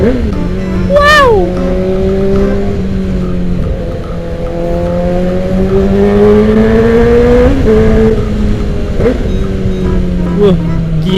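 Yamaha R6 sport motorcycle engine revving hard, its high-pitched wail rising and falling through several sustained blips, loud and close throughout with a steady engine drone underneath.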